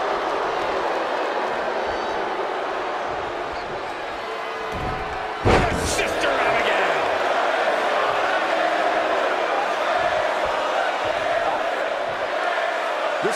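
A wrestling arena crowd roars continuously through a hardcore title match between two wrestlers, with a heavy slam thudding midway. A commentator talks over the dense, sustained crowd noise.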